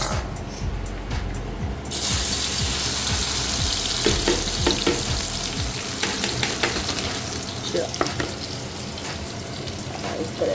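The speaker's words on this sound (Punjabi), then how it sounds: "ਹੁਣ ਆਪਾਂ ਇਹਦੇ ਵਿੱਚ ਪਾਵਾਂਗੇ ਭਿੰਡੀ ਫਰਾਈ ਕਰਨ ਲਈ" Okra pieces frying in hot oil give a steady, loud sizzle and crackle throughout, with occasional stirring scrapes and no talking.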